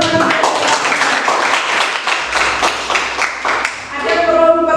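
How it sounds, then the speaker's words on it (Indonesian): Students clap together in a classroom, a dense, steady patter of hands filling the room, with children's voices and chatter mixed in toward the end. "Beri tepuk tangan teman-teman."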